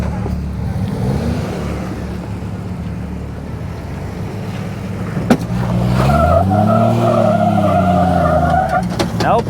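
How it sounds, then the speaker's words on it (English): A green Jeep on BFGoodrich KO2 tires grinds up rocky ledges on the Fordyce Trail, its engine droning loud and close, then revving and rising in pitch as it strains over the climb. "Let's see how the KO2s will do on the green Jeep."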